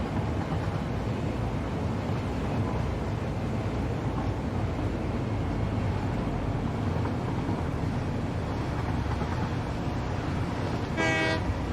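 A train in the Satisfactory video game rumbles steadily and loudly throughout, then its horn sounds briefly near the end.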